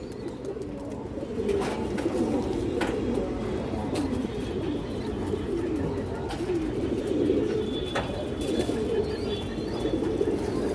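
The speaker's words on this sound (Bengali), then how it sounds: "খুবই ভালো একটা কবুতর এবং খুবই চঞ্চল কবুতর" A large racing pigeon of the long-distance flying type coos in soft, repeated low murmurs close by, with faint chirps and occasional wing flutters in the background.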